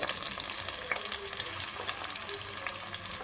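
Onions, green chilies, tomato and curry leaves frying in oil and being stirred, a steady close sizzle with occasional scraping stir sounds, moderately quiet and with no talking.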